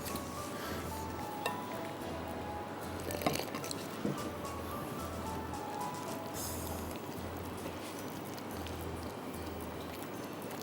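Batter is mixed by hand with ice-cold water, giving soft wet squishes and drips in a loose repeating rhythm. A few light clinks from the bowl come through, all close and quiet with no talk.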